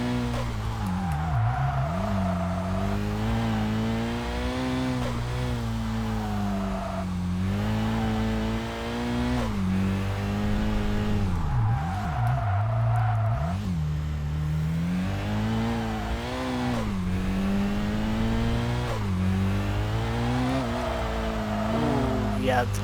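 Racing-game car engine in Kaido Racer 2 revving hard with turbo boost, loud and continuous, its pitch repeatedly climbing through gears and dropping on shifts, with a voice talking over it.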